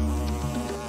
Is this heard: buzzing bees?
yes